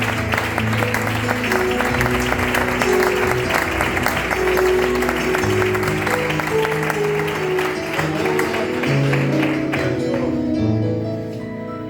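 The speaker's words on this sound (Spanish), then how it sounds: "Damos un aplauso para Dios." A church congregation claps together in praise during a Spanish-language service, loud and rhythmic over music with sung or spoken voices, fading toward the end.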